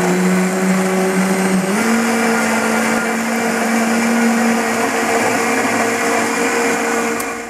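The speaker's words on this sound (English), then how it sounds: "JTC blender. I love this blender." A JTC blender whirs loudly and steadily as it purees a berry and spinach smoothie, its motor pitch shifting slightly partway through the close, continuous run.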